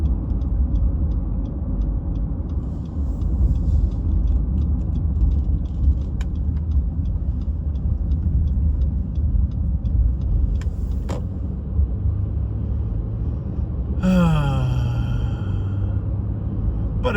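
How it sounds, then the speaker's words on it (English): A car driving around town, a steady low engine and road rumble from inside the vehicle with a sharp hiss and a falling tone near the end, no voices. "we'll go for a bit of a drive still"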